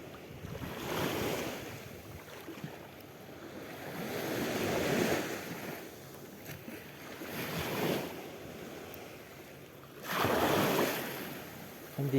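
Ocean waves surge against the shore during shore fishing, rolling in with swelling rushes every few seconds, alongside wind buffeting the microphone and no voices.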